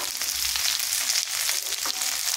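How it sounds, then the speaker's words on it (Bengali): Cut potatoes fry in hot oil with ginger and garlic, giving a close, continuous bright crackling sizzle with small fluctuations as pieces shift in the pan. "এরপর এখানে দিয়ে দিচ্ছি কেটে রাখা আলু।"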